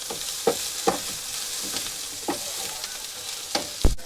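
Onion frying in a pan on a home stove, a steady soft sizzle with faint crackles and a few light stirring clicks, alone with no talk.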